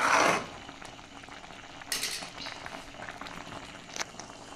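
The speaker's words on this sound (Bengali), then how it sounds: "বড়াগুলো দিয়ে ফুটিয়ে নিই" A pot of curry with ground mung dal fritters simmering, a soft bubbling beneath a burst of noise at the start and a few scattered utensil clinks and scrapes.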